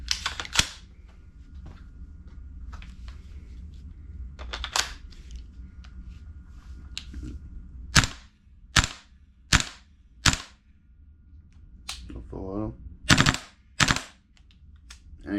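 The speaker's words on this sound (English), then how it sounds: "Empty magazine, gonna dry fire it." Dry firing a Viper Tech M4 gas blowback airsoft rifle with an empty magazine gives a series of sharp, close mechanical snaps, some single and some in quick pairs, with quieter handling noise between them and no talk.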